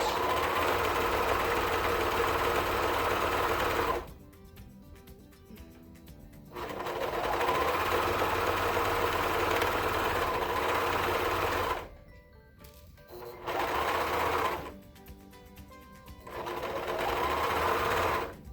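Overlock serger sewing elastic onto swimsuit fabric, running in several loud, close bursts of rapid mechanical whirring separated by short pauses.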